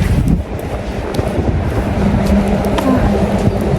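Strong wind on a street in Germany, a loud continuous roar of microphone buffeting with constant low rumble across the whole stretch, and no other clear sound above it.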